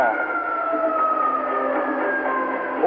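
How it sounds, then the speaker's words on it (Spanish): A wailing siren sounds continuously in an arena during a three-point contest, its pitch sliding up and down, fairly close and steady throughout. "suena la sirena"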